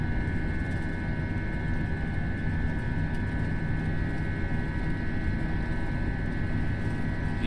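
Airbus A320 jet engines at takeoff thrust in a flight simulator, a loud, steady roar with a constant whine running unbroken throughout.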